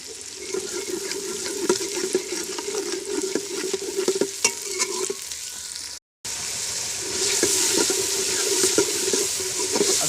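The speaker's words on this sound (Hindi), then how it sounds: "अब हम इसके अंदर अदरक लहसुन का पेस्ट डालेंगे।" Onions and ginger garlic paste fry in a pot while being stirred, a close, continuous sizzle with scraping and stirring sounds, briefly cut off midway before resuming.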